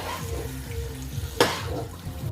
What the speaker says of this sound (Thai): ลวกผักเสร็จดามาลันน้ำเย็นใส่ค่ะ